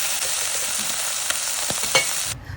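Chicken searing in hot cooking oil in a pan, a steady close sizzle with a few sharper pops and crackles, fading out abruptly near the end.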